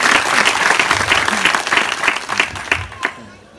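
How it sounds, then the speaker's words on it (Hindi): An audience claps loudly and steadily at a Christmas meeting in Mordhi village, Madhya Pradesh, with a dense ragged patter that fades out near the end and a few voices mixed in. "संचालक के लिए जोरदार ताली बजाए"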